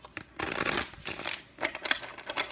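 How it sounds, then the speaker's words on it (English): Tarot cards are shuffled by hand in quick, close riffling bursts with brief pauses between them, crisp papery flutters and taps. "let's do 3 more shuffles"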